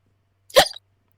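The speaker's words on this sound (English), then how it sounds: "I hiccuped." A single short, sharp hiccup from a man sounds close and clear, then silence follows.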